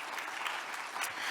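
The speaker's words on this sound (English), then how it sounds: "help us thank our members of the academia for their invaluable insights with a warm applause" Warm applause from the audience at a World Habitat Day celebration, thanking academia members: a short, even patter of many hands clapping, moderately distant, with no voices over it.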